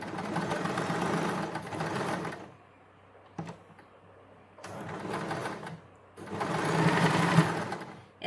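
A sewing machine stitches a cotton suit in three close, steady runs separated by short pauses, with a faint click in one gap and no talk.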